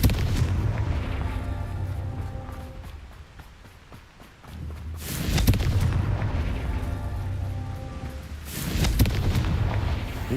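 Spell blasts from the Confringo fire spell in Hogwarts Legacy during Merlin trials, two heavy booming bursts a few seconds apart over a dense, rumbling game soundscape and music.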